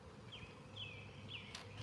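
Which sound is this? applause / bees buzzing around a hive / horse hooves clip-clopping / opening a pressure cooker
bees buzzing around a hive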